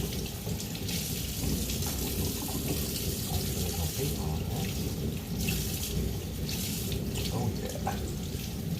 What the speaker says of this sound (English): I'm going to go ahead and rinse this off